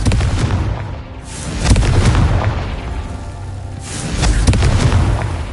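Confringo fire spell blasts in the Hogwarts Legacy video game: loud, deep booming explosions that swell and roll out in waves, several in a row with no pause between them.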